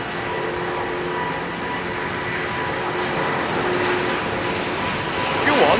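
A four-engined airliner roars on London Heathrow's runway 27R, a loud, steady, broadband rumble filling the whole clip and swelling slightly near the end, with faint voices nearby.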